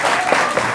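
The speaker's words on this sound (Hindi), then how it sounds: "ताली बजा रहा हूं आपके लिए, ताली बजाइए रशीदी साहब के लिए" Brief burst of steady audience applause in a television debate studio, dense and even clapping throughout with no voices standing out.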